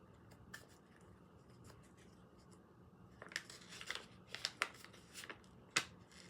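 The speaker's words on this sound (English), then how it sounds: "I usually do it, take the corner and I just rip it." A paper seed packet ripped open by the corner while sowing tomatoes, peppers and sunflowers, heard as a quiet run of short crinkly tearing and rustling bursts in the second half, with a sharper rip near the end and no talk.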